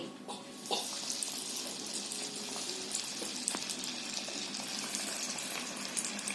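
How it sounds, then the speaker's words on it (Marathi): Chicken popcorn pieces sizzle in hot oil over a low gas flame, a steady hissing crackle with scattered sharper pops, fairly close and continuous without talk. "आता मी ते एक एक करून तेलामध्ये सोडते."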